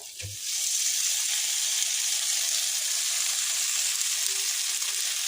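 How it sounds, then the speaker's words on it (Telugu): Boiled vermicelli being stirred in a hot pan for a gongura chickpea snack, a loud steady sizzle that starts after a brief knock and holds evenly throughout, close up with no talking. "సేమియాని అటు ఇటు కలుపుకోవాలి ఫ్రెండ్స్, మంచిగా కలిసే వరకు"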